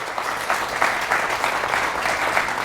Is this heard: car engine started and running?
no